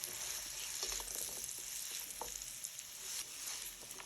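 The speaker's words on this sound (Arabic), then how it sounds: "ومعانا دلوقتي قلاية وفيها معلقتين زيت، وهننزل فيها الخليط بتاعنا ده" A zucchini mixture fries in a couple of spoonfuls of oil in a pan, giving a steady close sizzle with light crackles and occasional stirring clicks throughout, with no talking.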